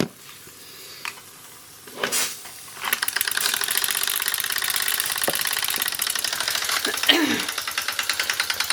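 A Mamod SA1 model steam car engine chuffs in a rapid, steady rhythm with sizzling steam hiss, starting after a few light knocks and running continuously, close and moderately loud.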